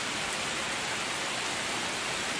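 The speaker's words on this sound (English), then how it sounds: "the trailer is just Rain ASMR." Steady, dense rain hisses evenly throughout in the Space Marine 3 trailer, a constant wash of downpour with no pauses, voices or other sounds.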